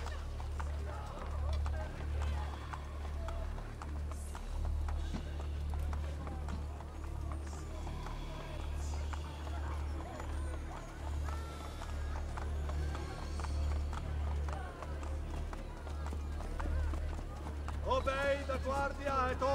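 Rhythmic hoofbeats of a horse galloping in the video game Assassin's Creed Brotherhood run steadily throughout, with voices talking over them and a horse whinny near the end.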